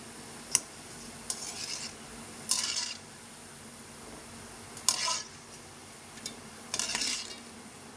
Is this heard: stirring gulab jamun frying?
yes